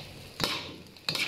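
Mee goreng noodles with vegetables and chives are stirred in a pan, giving two short scraping, sizzling bursts of the utensil against the pan over a low background hiss.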